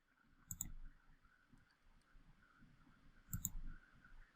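A computer mouse gives two crisp, faint clicks about three seconds apart in a quiet room, with low soft handling noise between them.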